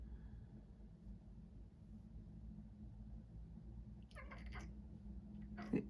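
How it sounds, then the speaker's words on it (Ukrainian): A cat meows a few times, somewhat faint, over a steady low rumbling background: one drawn-out cry around the middle and a short call near the end. "Це ви кота чуєте, якщо у кого питання, що це за звуки?"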